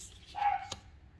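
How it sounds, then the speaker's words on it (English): A single short dog bark rings out in a quiet room, one clear yip-like bark of moderate loudness standing alone with no talk over it. "That was my dog barking."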